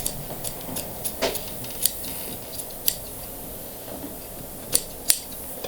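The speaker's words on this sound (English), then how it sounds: "I am going to take my scissors and trim that" Scissors trimming upholstery fabric on an 1860s chair: a series of sharp, separate snips at irregular intervals, close and fairly crisp against a quiet background, no talking.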